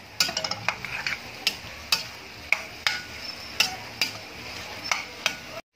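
Egg being stirred into sautéed bitter gourd in a pan: a steady run of close utensil scrapes and taps, roughly twice a second, over a soft continuous sizzle.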